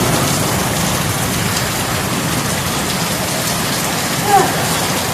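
Rain pours steadily in the late afternoon of the rainy season, a constant close hiss with one small brief sound near the end.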